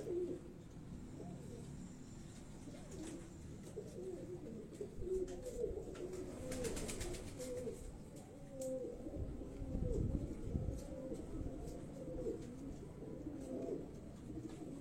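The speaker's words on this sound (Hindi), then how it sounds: "ये जो कबूतर मैं आपको दिखा रहा हूँ" Rooftop pigeons coo in repeated soft, throaty rolling phrases at close range, layered over a steady low background hum and faint outdoor noise.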